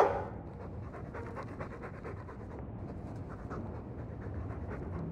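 Mabari war dog from the video game Dragon Age 2, panting steadily in quick rhythmic breaths at close range over a low, continuous background rumble.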